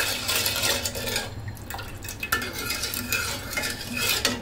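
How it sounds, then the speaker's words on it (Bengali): A milk pudding jelly mixture with lemon juice being stirred in a pot, with a utensil scraping and clinking against the metal in irregular close strokes, with a faint liquid slosh beneath. "এখন ভালো মতো এটাকে নেড়ে চেড়ে একসাথে মিশিয়ে বলক আনিয়ে নিতে হবে।"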